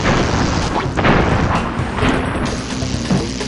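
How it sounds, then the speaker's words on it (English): Exploding seeds in the Crash Bandicoot 2 level Diggin' It give off dull booms and crashes amid busy game sound and music, with several bursts spread through the stretch. "Beware of the exploding seeds, because they explode."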